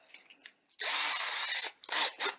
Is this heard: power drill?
yes